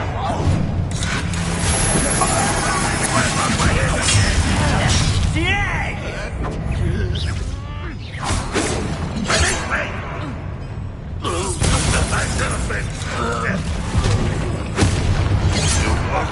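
A Bombarda blasting spell explodes in the Hogwarts Legacy video game, several booming blasts with crumbling debris and whooshes, loud and dense amid battle effects.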